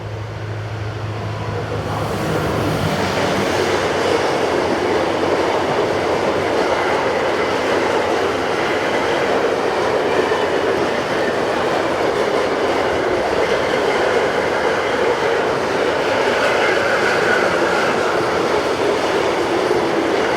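An ER20 diesel locomotive hauls a car train on the line between the port of Koper and Hodoš. The rumble stays steady for the whole stretch, with rolling wagons and rail clatter as it passes fairly close.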